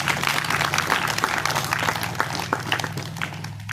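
An audience at a talk for students claps to welcome a speaker. The applause is moderate and uneven, with individual claps standing out over a low steady hum, and nobody speaks.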